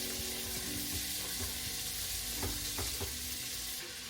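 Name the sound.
onion, celery, carrots and garlic sautéing in butter in Dutch oven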